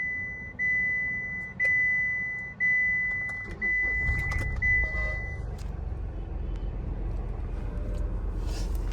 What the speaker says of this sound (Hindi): चलो मैं आपको गाड़ी स्टार्ट करके बता देती हूँ